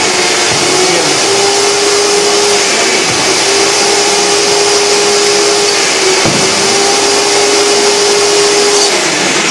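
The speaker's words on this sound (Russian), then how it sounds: "потом без пара просто пылесосом убираем остаточную влагу по максимуму." Bieffe Emilio RA steam cleaner running in vacuum mode with no steam, sucking up leftover moisture; a loud, steady motor whine with a sustained hum holds throughout, close and continuous without pauses.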